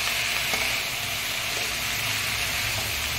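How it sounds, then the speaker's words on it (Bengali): Food frying lightly in a pan gives a constant, dense hiss of sizzling oil throughout, with a few faint stirring clicks. "বন্ধুরা আমার হালকা করে 2 মিনিট করে ভাজা হয়ে গেছে"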